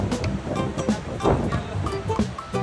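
Rushing water at Garandi Ella waterfall near Atampitiya, Sri Lanka: a steady, full roar of falling water that fills the whole moment, with no voices.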